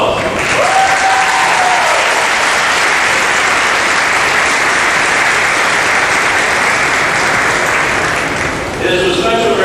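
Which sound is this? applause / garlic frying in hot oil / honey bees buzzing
applause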